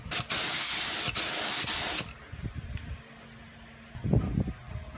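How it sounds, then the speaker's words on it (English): A spray gun laying primer on auto bodywork hisses loudly in three close bursts of about half a second to a second each, followed by quieter shop handling noises and a soft thump. "Now when you spray primer thick,"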